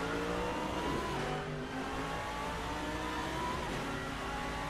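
Lamborghini and Mercedes race cars battle out of turn 3 at Portimao in a six-hour endurance race, their engines a loud, steady roar with layered high-revving tones held throughout, no commentary audible over them.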